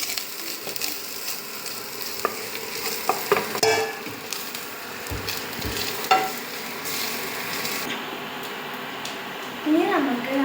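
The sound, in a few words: stir-frying coconut with onion, nuts and chili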